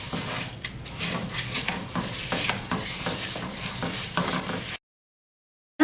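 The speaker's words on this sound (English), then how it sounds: "And now you want to stir it." Rice mixture for arancini is stirred in a buttered pan, a soft sizzle with irregular scraping and clinking of a utensil against the pan, close and continuous, no voices.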